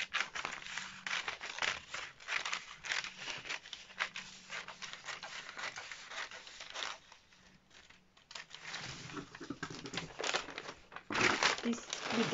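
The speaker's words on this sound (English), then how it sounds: "Now I'm going to cut from this line." Dress pattern paper being cut along a line, heard as crinkling and rustling of paper with irregular snips and scrapes, fairly close and soft, with brief pauses.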